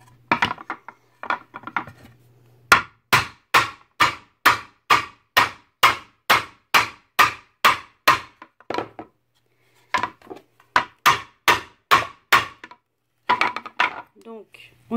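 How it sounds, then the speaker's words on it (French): A hammer crushes a metal bottle cap in a long run of sharp, evenly spaced blows on a hard surface, with short pauses between bursts. "on prend le deuxième morceau et on va venir avec le marteau"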